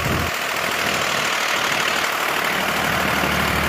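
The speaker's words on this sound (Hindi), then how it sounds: "देख सकते हैं ट्रैक्टर थोड़ा सा आरपीएम ड्रॉप कर रहा है" A Swaraj 855 FE tractor engine idles with a steady low rumble, its rpm easing slightly as it runs on alone.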